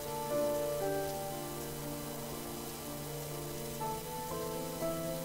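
Steady rain falls in the video game Heavy Rain, a continuous soft patter on surfaces with faint tonal background music running beneath it and no voices.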